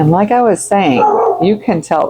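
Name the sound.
dog barking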